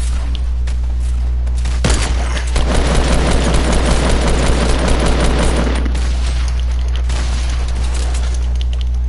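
Gunfire in a video game shootout, a dense rapid burst of shots building to a sustained fusillade mid-clip over a constant low hum, loud and close.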